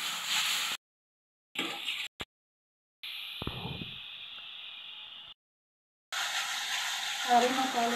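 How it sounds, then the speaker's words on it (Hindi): Ground spices (masala) frying and stirred in hot oil in a pan for an egg curry: a steady close sizzle and hiss that cuts in and out abruptly, with occasional scraping stirs. "सारे मसाले को ऐसे ही भूनेंगे कुछ देर, जब तक तेल ना छोड़ने लगे।"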